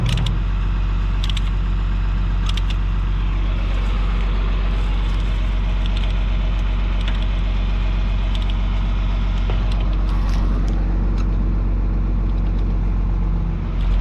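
A farm truck drives toward a no-till soybean field, its engine giving a steady, loud low rumble with road and cab noise throughout and faint knocks and rattles on top.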